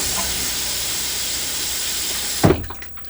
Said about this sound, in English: push the foot valve all the way to the floor and allow the bowl to rinse completely